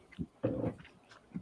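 A dog chews on a chair, making close, muffled gnawing and snuffling sounds in short bursts with a low growl-like rumble in the middle.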